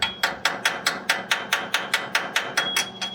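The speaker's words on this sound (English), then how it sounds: "So you got to chip it off" A hammer chips slag off a fresh weld on a broken baler: about fourteen sharp, bright metallic taps in a steady, quick rhythm, close and fairly quiet, with no talking.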